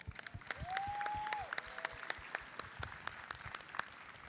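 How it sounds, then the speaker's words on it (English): Sparse, faint applause from a festival audience, scattered claps continuing at a distance, with a brief whistle-like tone near the start. "So let's give her a round of applause."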